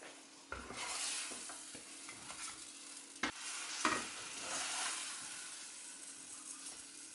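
A blueberry pancake frying in a pan, giving a steady soft sizzle with a few sharp taps and scrapes from a utensil against the pan, close and fairly quiet with no talking.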